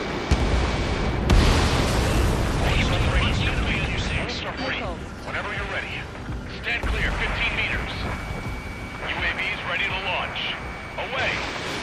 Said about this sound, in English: Hostile has a lock. Missile crossing.